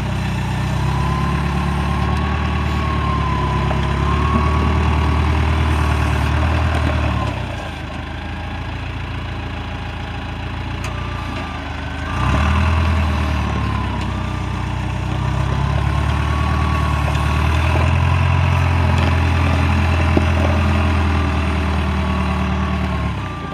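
A 2001 SkyTrak 6036 telehandler engine idles steadily on an equipment sales lot, a low, continuous diesel rumble with a brief dip midway before settling back to an even throb.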